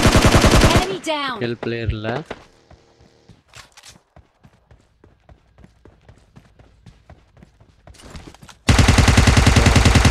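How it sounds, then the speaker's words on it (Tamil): Enemy gunfire in PUBG Mobile Lite opens with loud rapid bursts, gives way to quieter clicking steps and scattered shots, then returns as a heavy automatic burst; a voice speaks briefly over the game. "இங்கே ஒரு எலும்பி நம்மளை சுடுற சவுண்டு நம்ம கேட்குது"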